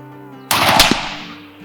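A single loud gunshot from a Henry Single Shot rifle chambered in .350 Legend, a sharp crack with a ringing decay that trails off over about a second.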